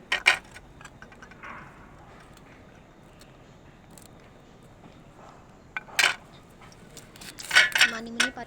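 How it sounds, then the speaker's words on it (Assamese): A knife chops green chillies in a home kitchen, sharp clicky taps on a board in short clusters at the start, middle and end, close and fairly quiet, with someone talking between them. "এতিয়া জলকীয়াকেইটা কাটি ল'ম।"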